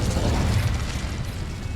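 An Incendio fire spell in the Hogwarts Legacy video game, a short dense whooshing, crackling burst of flame that fades over under two seconds, with no talk.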